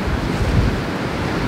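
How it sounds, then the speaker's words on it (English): Rough sea waves and strong wind at a pier on the Isle of Wight, a loud continuous roar of surf with heavy wind buffeting the microphone. "this wind and these waves are pretty rough"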